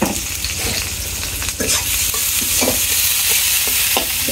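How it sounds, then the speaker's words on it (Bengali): Chopped onions frying loudly in hot oil, a dense close sizzle with repeated stirring scrapes and clinks of a utensil against the pan. "এখন তেল দিয়ে দিলাম, পেঁয়াজ কুচি দিয়ে দিলাম।"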